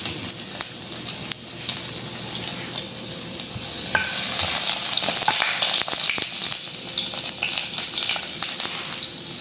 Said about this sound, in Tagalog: Siyempre, mainit na po yan. Lagyan na po natin yung luya.